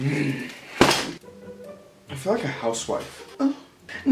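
A chair bumps once with a sharp, loud wooden thunk during casual indoor talk, followed by more speaking.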